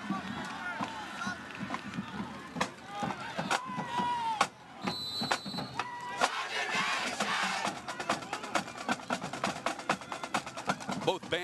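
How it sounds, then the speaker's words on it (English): Loud crowd noise from a high school football championship game (Class 4A state final in Knoxville, bands on hand), a dense sustained roar with bursts of shouting and whistles, under continuous play-by-play commentary. "Both crowds have been very loud."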